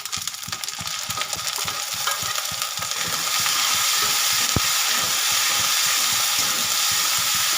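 A paste of mustard and poppy seeds frying in a pan with chilli, salt and turmeric for a bhola fish curry gives a loud, steady sizzle with stirring scrapes. The sizzle thickens and grows more hissy partway through.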